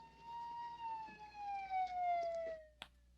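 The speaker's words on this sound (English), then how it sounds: "Sirens." Police siren from a 1968 zombie horror film soundtrack, a single wailing tone sliding slowly downward over about three seconds, fairly loud and clear, ending with a brief sharp knock.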